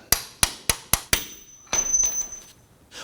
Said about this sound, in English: we're going to use our punch here, go in the center of that bolt and tap that out